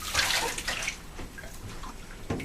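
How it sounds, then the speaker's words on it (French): Water rinsing a person's foot in a bathtub during bath care, a close, splashing pour that is strongest at the start and then trickles and splashes more softly, with no talking. "On va rincer tout ça."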